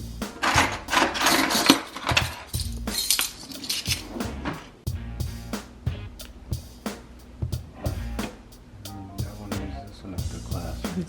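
Glass Pyrex dish and metal tablespoon handled in a kitchen while gathering ingredients for a keto cheeseburger casserole, a busy run of sharp clinks, knocks and clatters with some rummaging, loud and close.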